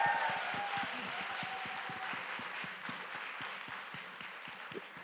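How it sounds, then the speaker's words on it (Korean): Applause from a studio audience at a Korean talk show taping about mothers raising children alone while fathers serve in the military, a steady broadband wash of clapping for about five seconds, fairly even and moderately loud. "박수 한번 부탁드리겠습니다."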